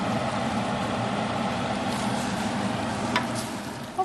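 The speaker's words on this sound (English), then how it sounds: "I'm gonna continue stirring until this Velveeta is nicely melted" Cheeseburger macaroni being stirred in a skillet as Velveeta melts in, giving a steady close sizzling and scraping wash throughout with a couple of brief sharper clinks near the end, no voices.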